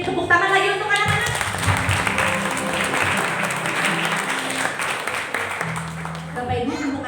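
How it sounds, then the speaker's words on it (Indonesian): A church congregation applauds for the children, a sustained burst of clapping from a crowd filling the room, with music and voices running underneath. "Saya ingin tepuk tangan lagi untuk anak-anak."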